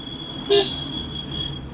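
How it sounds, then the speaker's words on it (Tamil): A single short horn toot from a vehicle on an unlit road at night in Valparai, brief and moderately loud, over a steady high-pitched tone and low background hum. "ஹாரன் சவுண்டு மட்டும் கேட்குது, வண்டி லைட்டே இல்லை"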